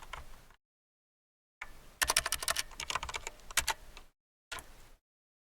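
Typing on a computer keyboard comes in close, quick bursts of clicking keystrokes separated by short silent gaps, faint and alone.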